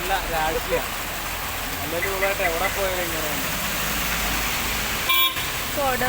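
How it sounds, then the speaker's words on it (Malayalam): Heavy rain hisses steadily on a road while passing vehicles and a short honk cut through, and people talk in the foreground over the downpour. "ഭയങ്കര മഴ കൊടയില്ല"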